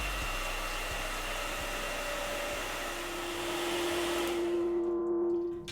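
A heat gun blows with a steady, loud whirring hiss while heating a grip on a Beretta PX4 Storm Compact pistol, the pitch shifting slightly midway before cutting off near the end.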